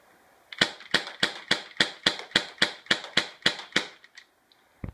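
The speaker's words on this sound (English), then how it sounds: "Now we're gonna do some rapid fire here." A Beretta Elite II CO2 airsoft pistol fires about a dozen sharp shots in rapid succession at an even rhythm, close and loud, with no talking over it.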